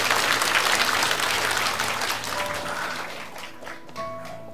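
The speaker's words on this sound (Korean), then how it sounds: "뜨거운 박수 부탁드립니다" Warm applause from a church congregation after a pastor's talk at a spring festival, loud sustained clapping that thins out over the last couple of seconds.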